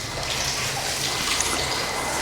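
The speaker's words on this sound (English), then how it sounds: "It's starting to get drippy." Water trickles and drips inside a tunnel beneath a canal, a steady wet patter with small splashes echoing faintly, continuous and fairly near, no voices.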